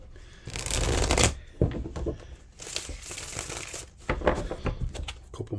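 Tarot cards are shuffled several times in a row. Rapid riffling bursts sound close and crisp, with short pauses between the shuffles.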